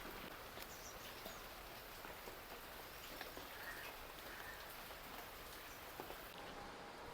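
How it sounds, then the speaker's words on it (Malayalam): Heavy rain falls outside as a faint, steady hiss of drops that continues evenly throughout. "പുറത്ത് നല്ല മഴയാണ്"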